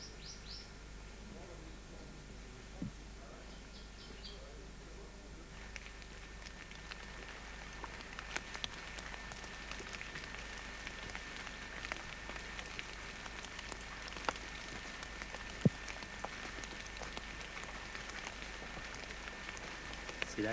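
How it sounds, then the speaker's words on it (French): Steady rain patters on surfaces in a lush forest on Kilimanjaro with a constant hiss, scattered drips ticking through it and faint birds chirping in the background. "La pluie vient quelque peu troubler notre sérénité"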